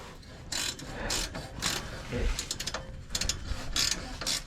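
A ratchet wrench tightening a new Magnaflow exhaust pipe on a Toyota 4Runner, loud close bursts of rapid clicking in several short runs, separated by brief pauses.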